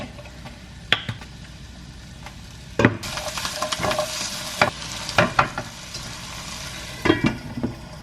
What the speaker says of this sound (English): cook them so they will be nice and cooked and garlicky and really yummy to go with the eggs on toast